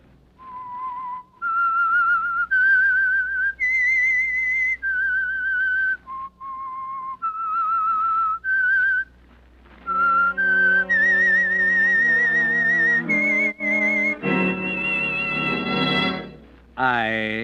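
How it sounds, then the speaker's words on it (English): A whistled theme tune serving as the signal for a radio mystery show, a clear melody of sustained pure notes stepping up and down, joined partway through by orchestral music that swells toward the end. "That whistle is your signal for the Signal Oil Program"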